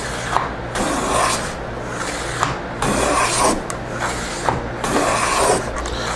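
A hand plane takes light shavings from wood while cutting dovetail depth on a curved blockfront lowboy drawer side, with steady rasping strokes repeating about every second, close and alone.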